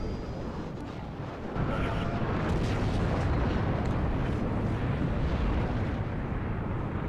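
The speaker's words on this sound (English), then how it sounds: "Look at this beautiful airstrike." Heavy rumbling explosions from an airstrike in the WARNO battlefield strategy game, a dense continuous roar of blasts that surges louder after the first second and stays sustained.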